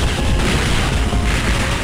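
A laser cannon blast from a Game Boy Advance anime fighting game, heard as a loud, sustained booming roar with dense low rumble that fills the whole stretch without any talk.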